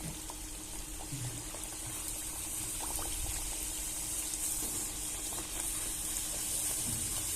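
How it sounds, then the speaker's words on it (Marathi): Spinach puri frying in hot oil, a steady soft bubbling sizzle with faint crackles, close and continuous with no talking. "तेल छान असं गरम झालेलं आहे आता आपण त्याच्यात पोळी घालून घेऊया"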